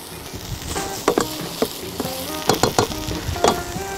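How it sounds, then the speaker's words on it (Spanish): Goat ribs sear in a hot pan, a steady bright sizzle with scattered crackles and pops, close and continuous with no talking. "Por otro lado tenemos las costillitas sellando"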